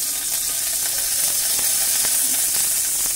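Bay leaves sizzling in hot oil for a Bengali daal, a steady bright hiss with faint crackles and pops, close and continuous.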